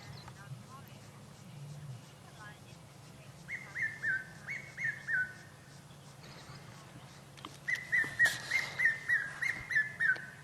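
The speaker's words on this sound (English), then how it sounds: "This cuckoo is here." A cuckoo calls in the African bush at sunset, giving two bursts of repeated clear whistled notes, a short run followed by a longer steady series, over a low background murmur.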